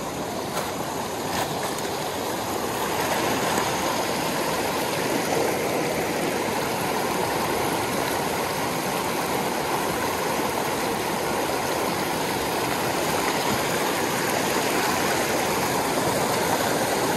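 A mountain trout stream rushes steadily and close by, a dense, unbroken wash of flowing water over rocks that holds at the same level from start to finish with no voices.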